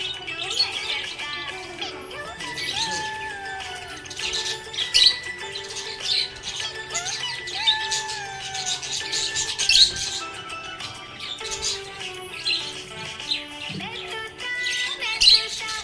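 A budgie parrot chirps happily in rapid, repeated squeaky tweets and short squawks, close and lively, over a steady melodic background.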